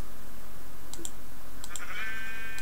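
A sheep in the Minecraft video game bleats once, a brief synthetic-sounding wavering cry, among a few scattered sharp clicks of keyboard and mouse over a steady background hum.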